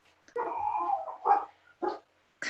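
Dogs barking indoors in a few short, loud bursts spaced apart, with a longer whining or yelping stretch at the start; no talk over it.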